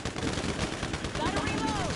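Rapid bursts of automatic gunfire in The Division 2, with dense, fast shots over a short stretch and some voice activity mixed in.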